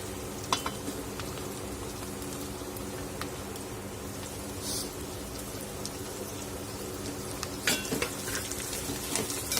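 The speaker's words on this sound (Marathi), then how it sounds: "भेंडी छान कांद्यामध्ये परतून घ्यायची आहे" Sliced okra fries with onions in a pan, making a continuous close sizzle with occasional clicks and scrapes of stirring, and no one speaking.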